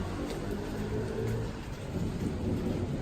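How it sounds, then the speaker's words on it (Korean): Heavy thunderstorm rain pours steadily in Penang, Malaysia, with a low rumbling roar underneath, a dense, continuous storm wash without voices. "지금 막 천둥 번개 치고 막 난리 났는데"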